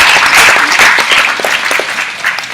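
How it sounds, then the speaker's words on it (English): Applause from a crowd of roughly fifty people at the welcome to an 8-week fitness challenge, loud sustained clapping filling the room for the whole stretch and tapering slightly toward the end. "Give yourselves a massive round of applause"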